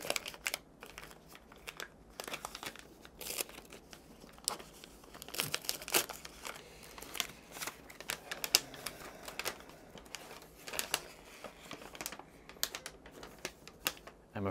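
Gift-wrap paper crinkles and rustles as a heavily wrapped Christmas gift box is opened. The sound comes as irregular bursts of crisp crackling and tearing, close up and fairly quiet, over about fifteen seconds.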